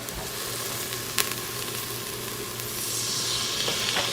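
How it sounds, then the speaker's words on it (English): Onions, garlic and peppers sautéing in an Instant Pot, a steady broadband sizzle with a brief clatter of stirring midway and the frying growing slightly louder toward the end, no voices. "I'm going to get my onions and garlic and peppers sauteed"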